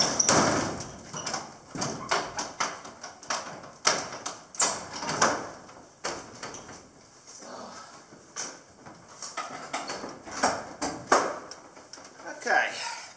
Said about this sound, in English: Let me shut the rest of these doors here